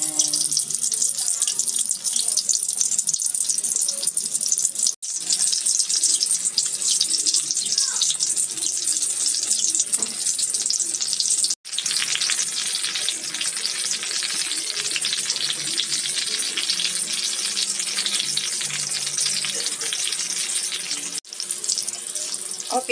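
Tortang talong, an eggplant omelette, frying in a pan, a steady loud hiss and crackle that runs almost unbroken, dropping out for an instant only a few times.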